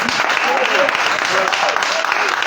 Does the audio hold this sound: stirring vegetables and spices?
no